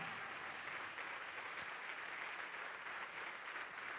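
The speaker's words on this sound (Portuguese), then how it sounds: "Vamos aplaudir mais." A church congregation applauds, dense sustained clapping from many hands that fills the room steadily and evenly, with no individual voice standing out.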